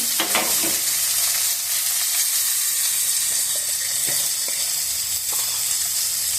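Garlic, chopped tomato and green chilli frying in a pan give a loud, steady sizzle that never lets up, with scattered soft clicks from stirring throughout.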